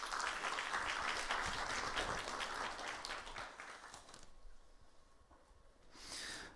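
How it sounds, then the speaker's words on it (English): Audience applauding three conference speakers as they return to the stage for a second session, a dense wash of many hands clapping that is loud at first, then thins and fades before a brief swell near the end. "Give them a round of applause."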